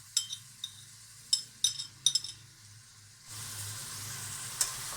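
Chopped tomatoes and green chilies hit chicken frying in a pan, with a few clinks of a spoon at first, then a steady, close sizzle swelling up and holding.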